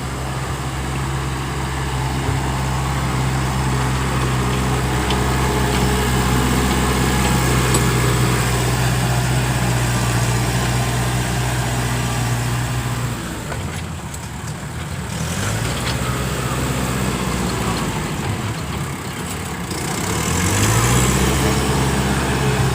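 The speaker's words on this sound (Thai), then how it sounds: "รถไถต้องทำทางอย่างหนักครับ วันนี้ครับ" Heavy tractor engine labouring to clear a muddy dirt road, a steady loud diesel drone with low pulsing harmonics throughout, dipping briefly then surging again as it works.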